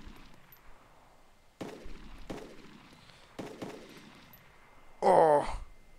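Several sharp gunshots from an M24 sniper rifle in the ArmA 2 combat game, spaced irregularly with short decaying tails at moderate distance, followed by a brief burst of speech.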